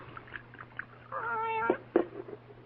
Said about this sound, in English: Hush up, cat.